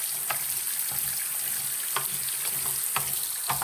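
Running water pours over a DirecTV RCA remote control as it is rinsed, a steady hiss broken by a few light clicks and splashes roughly once a second.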